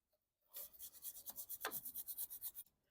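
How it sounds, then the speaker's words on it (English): Brush scrubbing a Surron/Talaria Sting electric dirt bike chain, a close, steady run of about fifteen quick rhythmic bristle strokes lasting two seconds, with no talking. "A dedicated chain cleaning brush is the best way forward."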